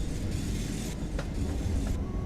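Rail joint clickety-clack from a train in Train Sim World 4, a steady rumbling ride with a few faint rhythmic clicks over continuous low wheel noise, no voices.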